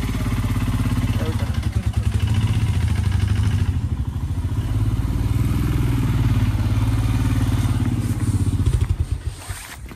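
A motorcycle engine idling close by with a steady low rumble and clatter while the bike is being parked, continuous throughout with a brief rise near the end.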